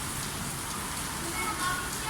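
Heavy rain pours steadily in a soft, even hiss of drops on surfaces, continuous and fairly faint, with a faint voice under it.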